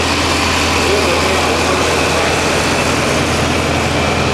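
A restored Oliver Super 90 diesel tractor engine runs and rumbles loudly and continuously nearby, a low droning idle with no breaks.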